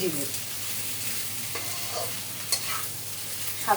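Soft sweet pumpkin fries with a cumin tempering in a pan, a steady close sizzle with occasional stirring scrapes and light clicks of a spatula.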